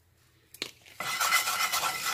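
Egg roast mixture with a pinch of salt is stirred in a pan: a couple of light clinks and scrapes, then a sudden burst of close sizzling and stirring that carries on to the end.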